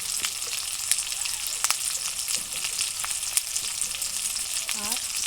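Prawn masala with salt and turmeric frying in a pan for a Bengali prawn malai curry, a steady close sizzle broken by scattered sharp scrapes and knocks of stirring, with no talk.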